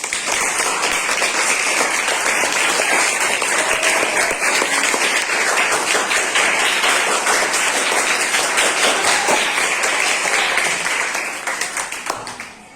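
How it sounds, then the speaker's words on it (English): A classroom of schoolchildren applauding themselves, dense continuous clapping from many small hands nearby, loud and steady for about twelve seconds before fading out. "Clap for yourself."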